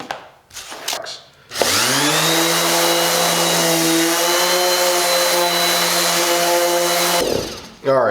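A 5-inch random orbital sander with a snap-on dust collection bin spins up and runs at a steady, loud, high whine for several seconds, then winds down, heard close with no talking.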